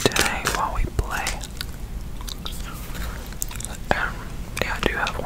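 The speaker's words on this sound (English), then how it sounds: "I've also got some peppermint cobalt gum I'll be working on today while we play." Peppermint gum is chewed close to the microphone in wet, crackly bursts between soft whispered speech, the mouth sounds and whispers alternating in a quiet intimate setting during FIFA 22 play.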